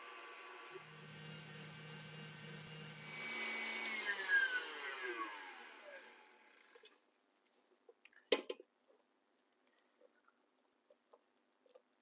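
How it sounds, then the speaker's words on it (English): An electric hand mixer whips cream for a Black Forest cake roll, a steady whirring drone with a low hum that builds and brightens for about six seconds, then cuts off, leaving scattered clinks and taps. "I'll begin whipping that on low, and I'll gradually turn it up and whip it until it's nice and thick and holds big thick dollops."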